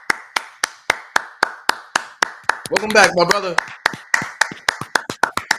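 Steady, loud hand clapping, about four claps a second, keeps going right through a man's short spoken greeting in the middle.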